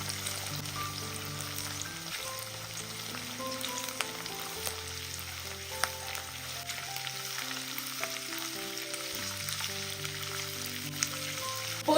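Garlic cloves fry in a pan over medium flame, a steady hiss under a low tonal hum from something nearby, with faint stirring clicks and no voices.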